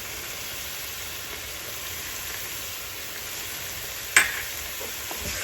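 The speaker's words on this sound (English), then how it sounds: "Fry a little bit before adding the curd to get a medium gravy like this." Ground spices (garam masala, cumin, coriander, turmeric) frying in oil for a salmon biryani gravy, a soft steady sizzle with a single sharp clink of a utensil near the end.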